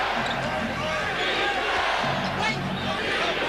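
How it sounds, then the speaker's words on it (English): A basketball arena crowd at a Lakers–Spurs game roars with a sustained chant of defense, dense and loud throughout, with a commentator's voice faintly under the noise. "Chant of defense from the crowd."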